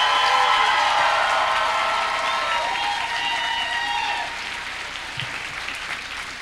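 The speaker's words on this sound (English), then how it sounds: "can we get a round of applause for all our entrants?" A convention audience at a costume contest applauds the entrants, loud, full clapping mixed with cheers and whistles that eases somewhat in the second half.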